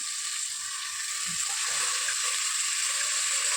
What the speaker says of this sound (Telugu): రెండు పెద్ద టమాటాలు వేసుకుంటున్నానండి ఇవి బాగా మగ్గిపోవాలి